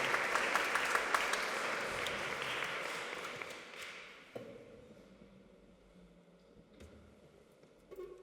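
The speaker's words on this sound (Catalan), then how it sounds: "Un fort aplaudiment també a l'Aina Clarinet." An audience at a Christmas concert by a music group applauds a clarinet player, with dense clapping that gradually fades away to scattered claps and quiet room noise.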